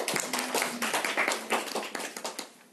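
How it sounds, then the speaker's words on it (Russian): An audience claps at a Russian read-aloud championship qualifying round, with individual hand claps clearly separated in a brisk, uneven patter that thins and fades toward the end. "Аплодисменты."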